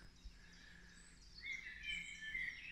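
Small birds sing out on the Malvern Hills, their faint high chirps and trills carrying from a distance over a quiet outdoor hush, with no one talking.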